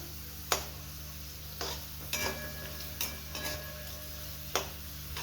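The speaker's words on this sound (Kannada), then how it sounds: "ಥರ ಎಣ್ಣೆಲಿ ಚೆನ್ನಾಗಿ ಫ್ರೈ ಮಾಡ್ಕೋಬೇಕು ಬೀನ್ಸ್ ಎಲ್ಲ ಈ ಥರ ಕ್ರಿಸ್ಪ್ ಆಗಬೇಕು ಎಣ್ಣೆ ಒಳಗೆ" Beans frying in hot oil in a pan while making masala upma, a soft steady sizzle running throughout with a few sharp clicks and taps of a utensil against the pan, fairly quiet and with no voices.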